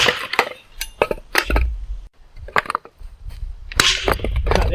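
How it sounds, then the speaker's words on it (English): Cold Steel Weeping Heart tomahawk chopping and splitting wood outdoors by a creek in rough weather, a series of irregular sharp knocks and cracks close up, with wind buffeting and low rumble between strikes. "splitting some wood with the Weeping Heart"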